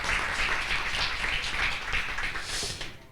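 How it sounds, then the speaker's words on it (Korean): Audience clapping at a Daejeon startup forum on the space industry, a steady crowd patter of many hands throughout that fades slightly at the very end. "큰 박수 다시 한번 부탁드리겠습니다."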